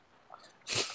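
A single sharp sneeze bursts out near the end of a quiet stretch during a livestream birthday party, loud and close after near silence.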